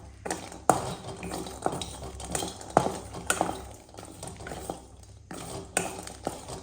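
Cashews and chillies roasting in a pan, heard as a quiet, steady sizzle broken by repeated scraping and clinking strokes of a spoon stirring them against the metal.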